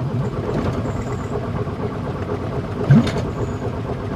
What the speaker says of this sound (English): if I keep cranking it, every now and again it'll fire up, but it won't run long